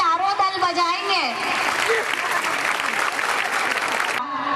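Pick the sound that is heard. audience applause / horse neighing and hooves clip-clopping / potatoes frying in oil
audience applause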